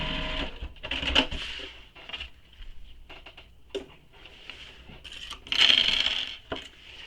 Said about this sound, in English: I'm doing a basting stitch here.